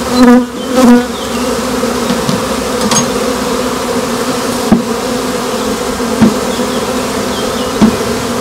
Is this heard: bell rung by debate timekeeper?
no